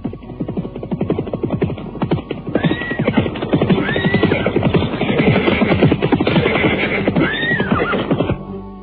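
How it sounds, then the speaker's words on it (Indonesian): Horses gallop with a steady, close clip-clop of hooves and neigh loudly several times as riders approach, a staged sound effect in an Indonesian radio drama, with no voices. "mendadak dua orang penunggang kuda datang menghampirinya"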